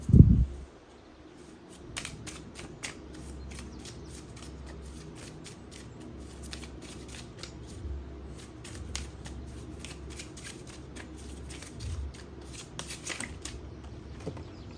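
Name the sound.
tarot cards being shuffled until a card pops out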